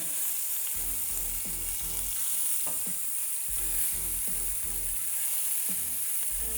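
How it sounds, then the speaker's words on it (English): Steak searing in a hot pan, a steady close sizzle and frying hiss running throughout, with low thumps and scrapes as the meat is turned. "There's more than 2 sides to a steak, so we want to turn it, get this side going."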